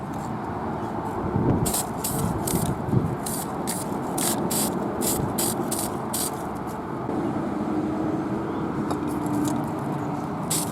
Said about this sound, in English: I'll spray from the top